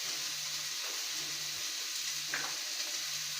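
Steady, faint hiss and sizzle of vegetables frying in hot oil for vegetable bonda, continuous throughout with no talk.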